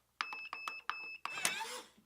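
A SnapSafe two-gun keypad vault chirps out a string of short electronic beeps after its reset, about five crisp tones spaced irregularly, closing in a longer rising confirmation chime, near and clear with no talk.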